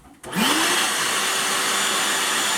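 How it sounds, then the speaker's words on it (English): A shop vacuum clears debris while cheap 318 cylinder heads are ported at home. It switches on with a rising whine, then settles into a loud, steady roar with no voices over it. "When I turn the vacuum on, it's going to suck everything out the back port."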